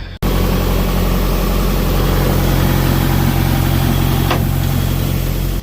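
Semi truck engine idling steadily while the trailer is being dropped: a loud, constant low diesel rumble with a throbbing mid-range drone, close and continuous, with no talk.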